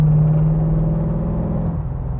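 Subaru BRZ with a swapped LS3 V8, running at low revs with a steady, deep engine rumble and a faint gearbox rattle beneath it.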